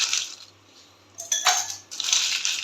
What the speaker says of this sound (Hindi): अभी इन ग्लासों के अंदर मैं शामिल करूँगी बर्फ़